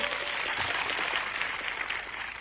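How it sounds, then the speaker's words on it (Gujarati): A crowd claps loudly and continuously at an outdoor Save Aravali Hills political rally in the Aravalli and Sabarkantha area of Gujarat, a dense, steady burst of applause filling the whole moment. "આજે આ મંચ પરથી એમના માટે જોરદાર તાળીઓ પાડી લો"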